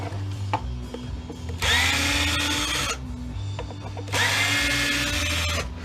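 A power drill backs screws out of a Husky jump starter being scrapped for brass, with two sustained whirring bursts of a couple of seconds each, close and loud, separated by quieter handling noise.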